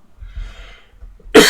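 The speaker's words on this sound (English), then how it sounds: "I started coughing 2 weeks after having COVID" A single sharp cough bursts out near the end, loud and close, after a stretch of quiet low rumble and faint breathing.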